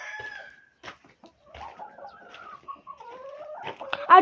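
Hens clucking nearby in a series of short calls and drawn-out squawks, rising to a louder burst at the end.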